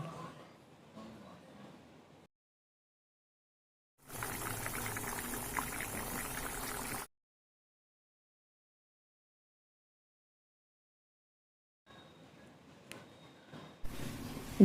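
Water gushes and splashes into a pot of cooking red lentil khichuri in one burst of about three seconds, set between quiet stretches.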